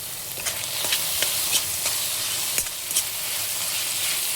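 Small tomato pieces frying with ginger garlic paste for a hotel-style mutton keema dum biryani, giving a steady close sizzle with intermittent scraping stirs of the spoon in the pan.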